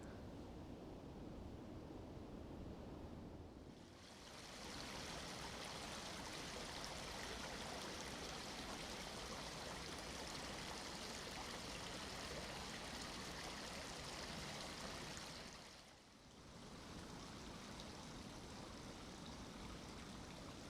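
Pudsey Beck, a stream in a winter woodland valley, rushes and babbles steadily over rocks, close and loud throughout, with two brief dips in level.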